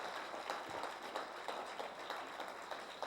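An audience at a motivational talk claps for itself, a quiet, somewhat distant patter of applause with scattered sharper claps throughout.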